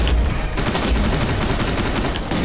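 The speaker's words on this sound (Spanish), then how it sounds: "me están disparando" Rapid incoming gunfire in Terminator Resistance, a dense continuous volley of shots aimed at the player, loud and close with no pause across the short burst.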